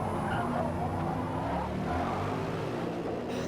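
GT race cars brake hard at Hockenheim, a continuous roar of engines with tyre scrub heard from a distance, and a commentator talking over it.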